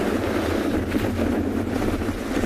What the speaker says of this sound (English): The wind is picking up properly here, cooling things down.